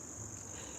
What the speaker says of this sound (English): Yeah, I think it sounds like the cicadas, maybe.